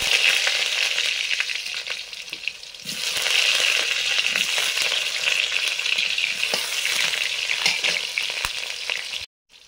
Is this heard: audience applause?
no